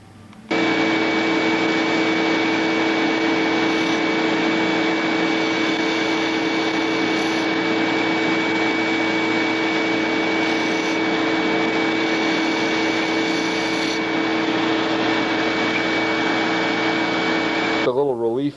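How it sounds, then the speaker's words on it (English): A grinder runs continuously for about seventeen seconds, grinding down the cut edge of a part for a Brodak Cardinal model aircraft with a steady, close, abrasive whir, starting and stopping abruptly. "You take it over to the grinder and grind that last little bit off."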